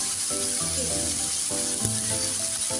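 Ginger sizzles steadily in hot oil for a bitter shukto, a constant close hiss with soft crackles and a few small bursts of spatter, no voices.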